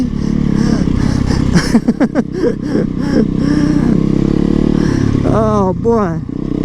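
A motorcycle is ridden on the road, its engine droning steadily with a few revs and shifts. A rider talks over the engine noise.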